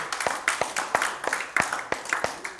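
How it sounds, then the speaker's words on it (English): A church congregation claps hands in praise, giving a run of sharp, fairly regular claps at close range, with voices calling out between them. "Give the Lord a hand clap."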